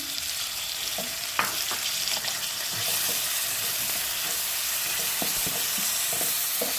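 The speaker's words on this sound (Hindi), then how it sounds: "अब हम इसमें कटे हुए टमाटर डाल देंगे" Chopped tomatoes drop into onions frying in a pan for a chicken-filled potato kebab filling, giving a steady close sizzle that swells midway, with a few light stirring taps and no talking.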